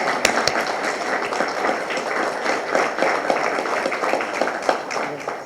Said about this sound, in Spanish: muy fuerte aplauso a Vanessa